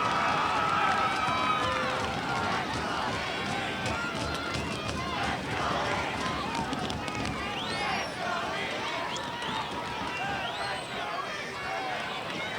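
A high school boys soccer crowd, East Brunswick against Columbia, cheers and chatters with a continuous babble of many voices and shouts, with players' running footsteps on the field mixed in.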